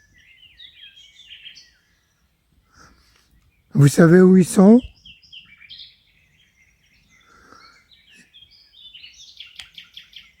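Small birds chirp and twitter outdoors along a hiking trail, light, scattered calls that come and go in the distance, broken midway by a brief spoken question.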